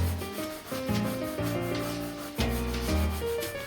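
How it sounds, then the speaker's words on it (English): Steady, rough sanding strokes rub back and forth across an old, brittle leather couch, continuous and close, with slight changes in pitch as the strokes shift. "you can put the cushion back in and the sanding process begins."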